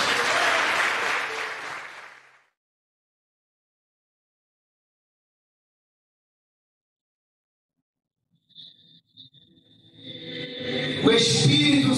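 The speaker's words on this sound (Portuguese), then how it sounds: "Você pode aplaudir esse Deus?" A church congregation claps in a loud, full burst that fades out after about two seconds. Silence follows, then faint voices and room sounds return near the end.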